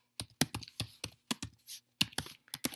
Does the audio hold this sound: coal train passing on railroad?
no